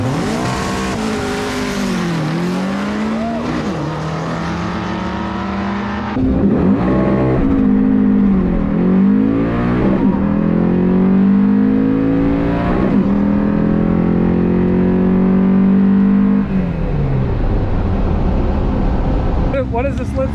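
Drag racing cars roar down the track, engines climbing through repeated gear shifts in a loud, sustained howl that rises and drops several times, with a second car joining partway through.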